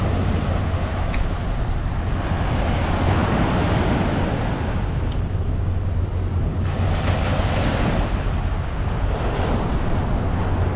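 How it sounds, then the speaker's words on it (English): Ocean waves wash steadily onto a Lisbon beach, a continuous close roar of surf mixed with gusty wind buffeting the microphone, with no voices. "what's a beach trip without actually going down to the water?"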